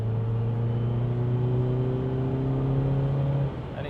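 A manual BMW 320d with an M47 diesel engine and a fitted 330d turbo pulls hard in fourth gear on a dry road, a steady loud in-cabin drone with rising engine tones that cuts off near the end as the throttle lifts.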